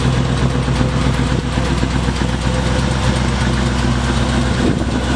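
Cosmic Cruiser engine idling with an exhaust header leak, a loud, close, steady rumble with continuous ticking and puffing texture and no breaks throughout.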